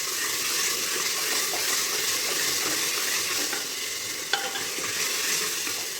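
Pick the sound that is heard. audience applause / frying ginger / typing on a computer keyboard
frying ginger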